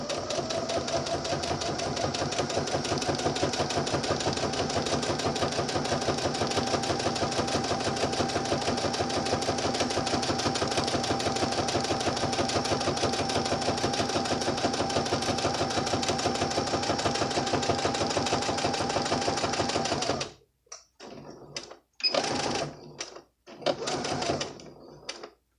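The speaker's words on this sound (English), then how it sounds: "continue with a regular sewing length stitch and back stitch to reinforce" A sewing machine stitches a centered zipper seam in a long, steady, fast whirring run close by, then stops and gives several short bursts of stitching as it backstitches.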